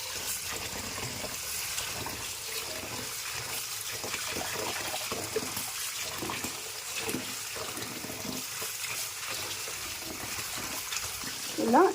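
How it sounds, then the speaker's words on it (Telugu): Steady rushing of water running from a tap, a continuous broadband flow lasting throughout with no talk. "ఇప్పుడు మనము ఈ ట్యాప్ కింద ఇలా పెట్టేసేసి ఇలా వదిలేదు."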